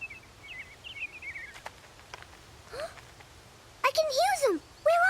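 Cartoon birds chirp and trill in short bursts, with bright rising and falling whistled calls that come and go over quiet outdoor ambience.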